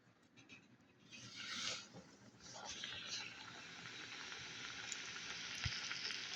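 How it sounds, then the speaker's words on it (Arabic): Breaded chicken, crispy-fried in hot oil in the Kentucky style, setting off a bright hissing sizzle that swells after a quieter start and holds steady and close, with faint speech in the background. "ونحطها في الزيت على طول."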